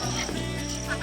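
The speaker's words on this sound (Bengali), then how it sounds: "এখানে দেখো কত সুন্দর হাঁস।" Ducks quack repeatedly from a pond beside a riverside hotel path in the Sundarbans, a close, busy chorus of calls running throughout with no pauses.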